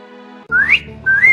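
A cartoon girl, Meenu, whistles outdoors: two loud, clear rising whistle notes, the first sweeping upward and the second held steady, over a low hum of background music.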